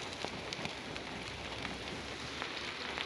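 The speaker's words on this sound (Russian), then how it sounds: "Это вот что? Это дождь." Steady rain patters on surfaces outdoors as a dense, even hiss with scattered drop taps, moderately quiet and with no voices.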